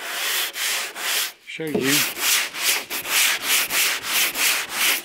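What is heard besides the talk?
sanding filler on a car bonnet with sandpaper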